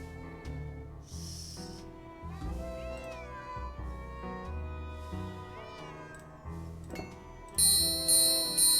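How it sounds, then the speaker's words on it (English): A cat meows repeatedly in the Nancy Drew: Secret of the Old Clock game, drawn-out calls recurring over a tinkling melodic game score, with a bright chime near the end. "This cat is so annoying."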